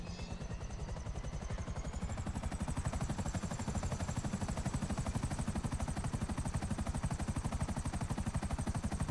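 A Buzzard helicopter in GTA 5 flies steadily, its rotor chopping in a fast, even pulse under a constant engine whine, fairly loud and close throughout.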